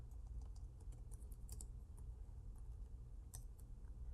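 Keys click on a computer keyboard as a PowerShell command is typed: soft, irregular keystrokes over a low steady hum, with a few brighter taps standing out.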